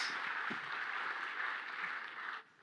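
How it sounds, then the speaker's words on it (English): An audience at a smartphone launch event applauds in a steady, even wash that fades abruptly near the end. "All right, let's get a round of applause."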